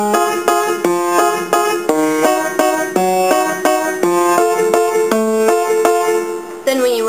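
Piano playing a song in a steady 1-2-3 pattern, left hand striking low bass notes on each first beat and right hand answering with chords on the second and third, loud, close and without singing.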